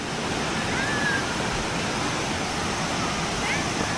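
A river rushes beneath a bridge on Mount Salak, giving a loud, steady broadband roar of water with no pauses, close to the listener.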